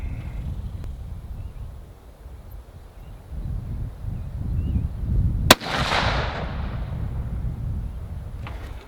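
A single sharp rifle shot from a Savage Ultralight in 6.5 PRC at an outdoor range, a loud crack with a decaying echo, heard over steady wind and low background rumble.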